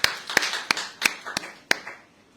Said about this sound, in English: I think we can give ourselves a round of applause for that.